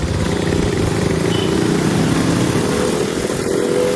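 A KTM motorcycle engine runs at a steady idle, loud and close, with a continuous buzzing drone and no change in pace throughout.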